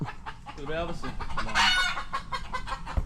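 Chickens cluck nearby in short bursts, with a brief louder squawk in the middle, and a few quiet voices in the background.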